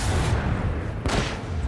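A starship cannon fires in the video game Rogue Trader, giving two heavy, loud booming blasts about a second apart with no talk.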